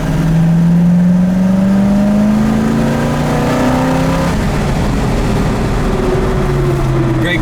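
Heard from inside the cabin, a 1967 Ford Mustang engine gives a loud, steady drone whose pitch climbs smoothly as the car accelerates, then settles into a lower cruising hum.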